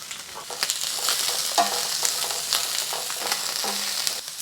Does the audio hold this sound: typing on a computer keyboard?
no